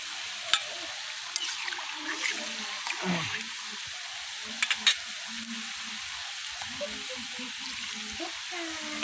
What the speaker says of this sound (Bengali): এখন একটু ঝোলের পানি দিয়ে দিলাম।